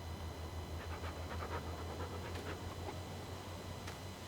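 A dog in the video game Stone Valley pants steadily, quick soft breaths over a constant low hum of background noise, fairly faint.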